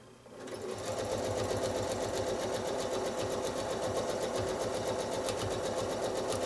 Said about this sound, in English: so you can see Josh stitching through this whole section really quickly in free motion.